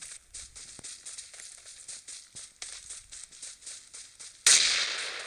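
Rapid crackling gunfire from a firefight in PUBG Mobile, a long run of sharp, fairly distant shots in irregular bursts, ending in a louder, nearer blast of noise.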